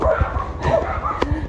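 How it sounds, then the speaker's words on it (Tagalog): Several dogs bark and yip near a private property on the way to Binayoyo Falls. The short, sharp barks overlap one another, close and fairly loud, with faint background noise. "Ang daming aso."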